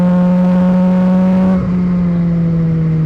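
A steady engine drone with strong low harmonic tones, holding even and loud, then dipping slightly as the pitch drops midway.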